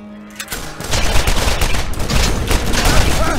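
Heavy gunfire in a Borderlands battle, a close, loud barrage of overlapping shots and blasts that keeps going without a break after a brief quiet start.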